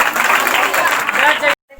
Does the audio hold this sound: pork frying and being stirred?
no